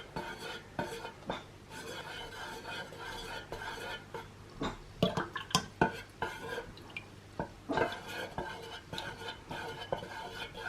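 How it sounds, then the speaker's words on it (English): Almond oil is added and stirred into a soy candle mix, with faint clinks and scrapes of a utensil against a container, a few sharper taps standing out in the middle, under quiet background hum. "So we're going to add 91 grams of almond oil into this mix."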